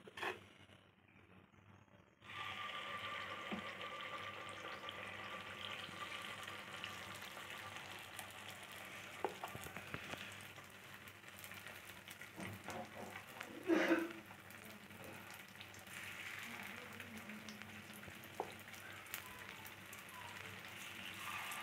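Gunta ponganalu batter frying in small spoonfuls in a paniyaram pan on the stove, a steady close sizzle and crackle like light rain that holds throughout, with a few faint clicks and taps.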